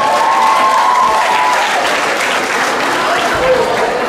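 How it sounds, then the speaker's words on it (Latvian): Audience applause for performers, sustained loud clapping from a crowd with a voice speaking over it. "Aplausi šiem drosmīgiem puišiem."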